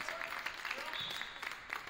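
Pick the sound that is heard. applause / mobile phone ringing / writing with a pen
applause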